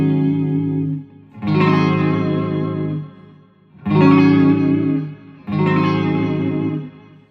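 Clean electric guitar run through two Friedman amps together, softened with delay: three sustained, shimmering chords, each swelling and ringing out with echoing tails, close and full with no talking.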